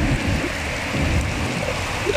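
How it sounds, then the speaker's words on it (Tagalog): Heavy rain pours steadily in Abu Dhabi on a windy morning, a dense, even hiss of falling water with no break and no voices. "Gosh, ang ulan."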